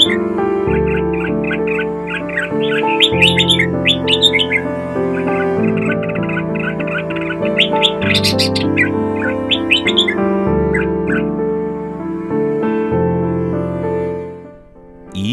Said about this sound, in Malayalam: ബുൾബുൾ അഥവാ ഇരട്ടത്തലച്ചി എന്ന ചെറുപക്ഷിയുടെ ജീവിതമാണ് ഇവിടെ